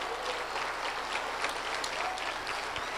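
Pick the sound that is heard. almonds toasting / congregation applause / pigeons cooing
congregation applause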